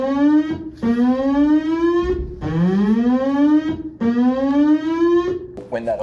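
An alarm sounds at a search and rescue base, loud rising whoops repeating three times with short gaps and a fourth starting at the end, with no talking.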